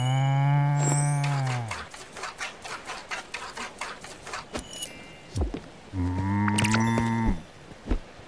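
Cattle mooing in the Spiritfarer video game: one long loud low moo opens, a scatter of clicks and small game effects follows, then a second long moo sounds near the end.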